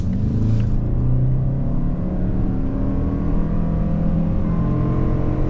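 A 2025 Toyota Sienna Platinum minivan accelerating hard from a standstill toward 60 mph, a steady loud engine and road roar heard from inside the cabin with no talk.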